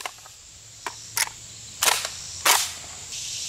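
Full-auto gunfire aimed at a lock comes through as a handful of separate sharp cracks, spaced unevenly and fairly faint, as if heard from some distance, with no talking.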